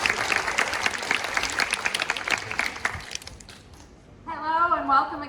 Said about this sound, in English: Please give a round of applause for Ms. Jess O'Kelly